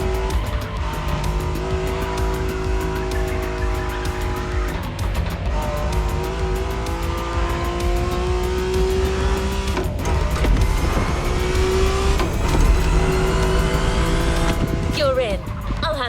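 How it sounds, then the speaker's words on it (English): A 1969 Camaro Z28 roars through a racing video game, its engine revving and shifting in long climbing tones with tire squeal, loud and continuous, while a voice talks over it. "Good thing you're driving the 1969 Camaro Z28."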